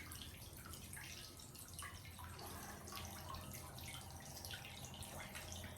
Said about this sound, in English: it's trickling, and it's going down